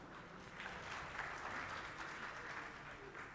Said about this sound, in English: That's why it's such a good round of applause.